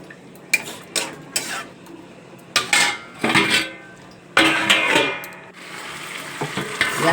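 Mutton being stirred and sautéed in a pan, with repeated sharp scrapes and clinks of a spatula against metal over a steady sizzle, loud and close, building to a denser frying hiss toward the end.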